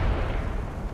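A grenade detonating in a video game, heard as one loud, close blast whose heavy boom fills the whole moment and rumbles on without fading.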